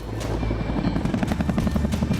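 A Chinook helicopter flying during a night mission in Ladakh, its rotors thudding in a fast, steady rhythm with a loud turbine whine, close and continuous.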